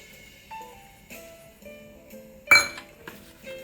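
A baking tray is handled while breadcrumbs are sprinkled over it for Russian patties: a few light clinks and taps, then one louder sharp clank near the end, in a quiet kitchen.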